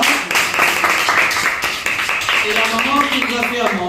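Crowd claps for a mother who cooked for a youth gathering in Brussels, steady applause running the whole time beneath a voice and some music-like tones.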